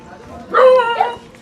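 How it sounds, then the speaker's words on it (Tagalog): A single short, nearby dog bark or yelp rises briefly over quiet background noise in a cemetery where a family lives, with a small trailing second cry. "May aso dyan."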